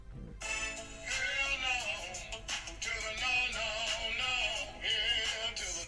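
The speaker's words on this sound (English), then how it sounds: "That's my ringtone for work, and I think it's the best one." A phone ringtone plays a bright, melodic tune with layered tones, fairly loud and continuous, with no voices over it.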